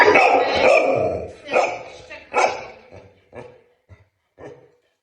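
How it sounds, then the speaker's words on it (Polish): A rescue dog barks in a run of sharp, loud barks that taper into softer, spaced yips and whimpers. A person speaks over the first few barks. "to szczekanie to jest też dla nas oznaka tego, że ten pies zaczyna żyć"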